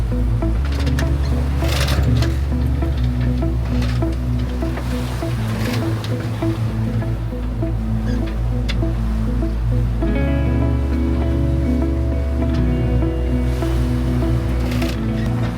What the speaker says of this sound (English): Rather large waves at the moment